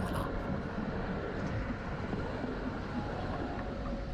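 A Moderus Beta low-floor tram runs through Dąbrowa Górnicza, Poland, giving a quiet, continuous rolling rumble with faint rail noise, distant and steady, with no voices.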